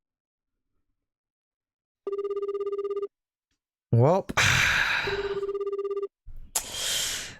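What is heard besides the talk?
telephone ringback beeps, calling terrace house in Osaka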